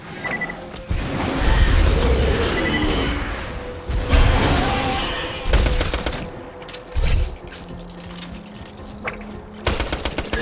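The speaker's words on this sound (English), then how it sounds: "Grenade out." Combat in the video game Borderlands 2: a grenade explosion bursts out amid loud, dense gunfire, with another heavy blast a few seconds later and scattered shots trailing off.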